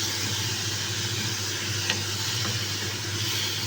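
Tomatoes hitting a hot pan while sautéing ginisang kangkong, a steady close sizzle with faint stirring scrapes and no talk.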